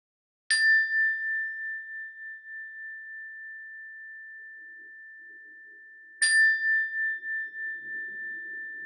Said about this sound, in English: I'll ring the bell, and when I do, I just invite you to listen to the sound of the bell